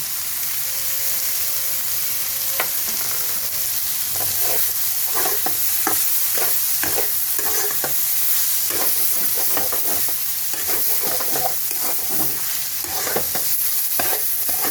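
Broccoli frying in a pan as whole poppy seeds are scattered in, a loud continuous sizzle and hiss close by, with clusters of stirring clicks and scrapes through the middle; no voices.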